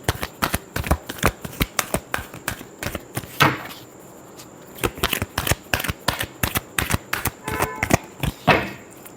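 Tarot cards are shuffled up close, a loud run of quick riffling slaps and flicks in repeated bursts with a short pause midway, without speech.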